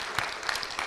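Congregation applause at a Korean Methodist church missions conference, a brief burst of dense clapping lasting about a second, with no one talking over it.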